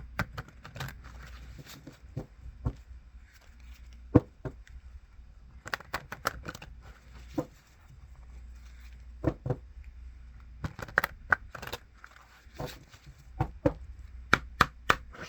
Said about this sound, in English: let's go back in for yet another good shuffle.